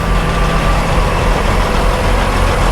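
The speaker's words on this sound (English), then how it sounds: "there's some trucks out here." Heavy trucks idle at a large truck stop, making a loud, constant low engine rumble with no talking.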